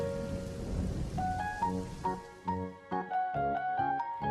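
Rain and thunderstorm sound effect in a children's church story: steady rain patter with low rumbling, and a light musical melody of plucked notes grows clearer over it as the storm fades.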